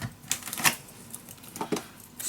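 Paper page being cut by hand for a junk journal, giving a few short, crisp slicing sounds at irregular intervals, close and moderately loud with no talking.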